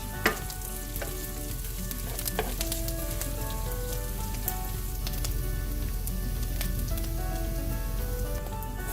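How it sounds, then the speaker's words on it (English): Onions fry in a pan, browning down for a chili chicken ghee roast. A loud, continuous sizzle crackles evenly with occasional sharper pops, close by and with no voices. "So I'm going to fry these onions down till they're nice and brown and caramelized."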